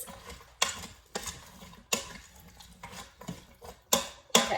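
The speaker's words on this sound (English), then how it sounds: "So I'm going to stir that around just for a second here." A spoon stirs spices into vegan corn chowder in an Instant Pot, giving several separate scraping strokes against the pot with quiet gaps between them, close and fairly soft, with no talking.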